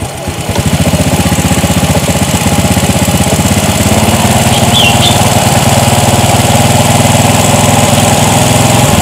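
Honda Future Neo motorcycle engine idling up close, a loud, steady, rapid putter that catches and settles into an even idle with a faint clicking rattle, with no talk.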